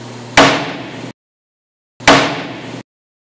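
Two sharp, loud wooden slams about two seconds apart, each with a brief ringing decay, a board struck on a table to mimic gunshots.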